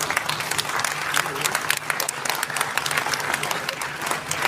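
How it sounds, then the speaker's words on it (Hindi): Loud audience applause welcoming speaker Laxman Yadav at a Constitution Day event in Nagpur's convention centre: sharp, dense clapping with distinct individual claps, steady throughout with a hum in the background. "सभी जोरदार तालियों से उनका स्वागत करेंगे"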